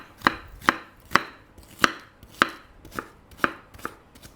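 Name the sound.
dicing food with a knife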